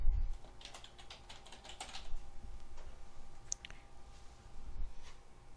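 A file name is typed on a computer keyboard as a close run of rapid, irregular key taps, with a louder click near the start and no speech.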